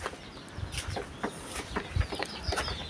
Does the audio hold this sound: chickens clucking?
yes